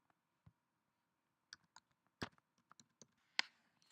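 Numbers are typed on a computer keyboard as a handful of quiet, separate key clicks at an uneven pace, each one close and crisp against near silence.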